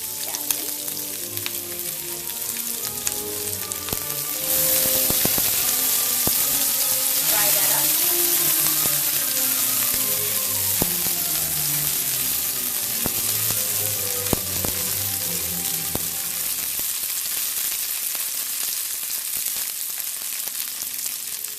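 Green onion drops into a hot non-stick pan for banh xeo and the sizzle jumps to a loud, steady hiss that holds for the rest of the clip, with music playing underneath.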